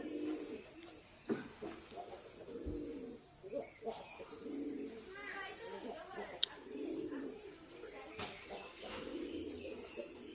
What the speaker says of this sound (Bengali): কবুতর দেখো ভালো লাগেনি।